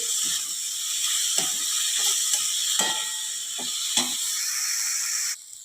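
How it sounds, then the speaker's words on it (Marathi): Bitter gourd slices sauté in hot oil with a continuous bright sizzling hiss, broken by several soft scraping knocks of stirring in the pan, before the sizzle drops away at the end. "आता कारले आपल्याला एखाद मिनिटभर तेलात चांगल्या परतून घ्यायचे आहेत"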